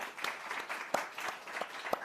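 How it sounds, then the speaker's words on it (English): Audience applause at a forum after a Secretary of State's remarks, a short, faint patter of scattered hand claps heard from a distance. "I think it deserves a clap"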